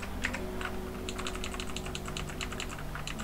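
Fingers type on a computer keyboard while entering code, producing quick, close, light key clicks in irregular bursts over a faint steady hum.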